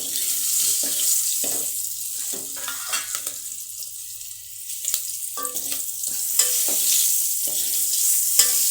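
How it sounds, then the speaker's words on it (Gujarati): Green chillies fry in hot oil with turmeric, giving a continuous loud sizzle broken by repeated scraping stirs of a spoon in the pan, with no voices. "આપણે તેને તળાવવા દઈશું સારી રીતે હળદર નાખીને"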